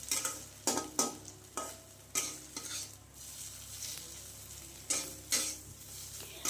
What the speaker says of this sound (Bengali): এগুলোকে দিয়ে মাছের ডিমটাকে ভালো করে ভাজা ভাজা করতে হবে